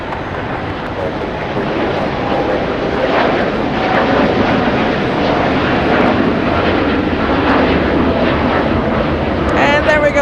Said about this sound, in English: Let's go over to the one taking off right now. We got a Dreamliner, and we'll pump up the sounds for this one.